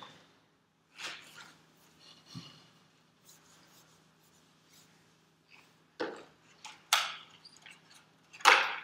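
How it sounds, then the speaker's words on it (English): Someone erases writing on a lecture-hall board in short, separate scrubbing bursts with quiet gaps between them. The rubbing grows louder and more vigorous toward the end. "so now we are going to erase some of this again"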